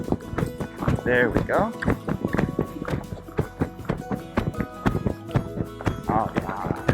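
A gaited horse lopes on a loose rein over dirt, its rhythmic hoofbeats thudding steadily and close, with someone talking over the footfalls and a brief whinny-like sound.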